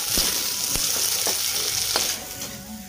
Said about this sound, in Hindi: तेल गर्म हो गया इसमें मेथी दाना डाल देते हैं इधर मेथी जल गया अब इस प्याज डाल देते हैं